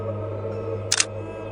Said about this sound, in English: a shutter snap.